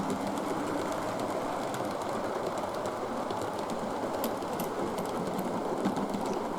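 A steady running rumble of a model J6 steam locomotive heading a heavy mixed train of 14 kit-built cars, with faint rhythmic clicking and light chuffing, continuous and moderately quiet.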